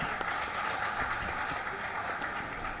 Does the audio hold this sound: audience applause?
yes